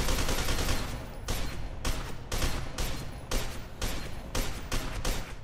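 Rapid bursts of gunfire in the shooter game F.E.A.R. 2, loud and close, coming in a run of roughly eight separate volleys with brief gaps between them and no talk.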